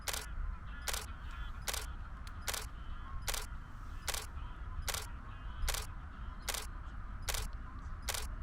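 OM System camera shutter firing repeatedly while photographing birds with the 150-400 F4.5 Pro lens, about ten sharp clicks at a steady half-second rhythm over low outdoor background noise.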